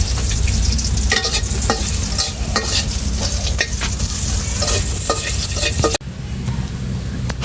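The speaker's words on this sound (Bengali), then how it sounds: "এই তো কালিজিরা ভাজা হয়ে গেছে গা, আর এদিকে মাছটা ভাজা শেষ।" Black cumin seeds and fish frying in a pan give a loud, close, continuous sizzle with frequent sharp crackles and spatters, easing slightly near the end.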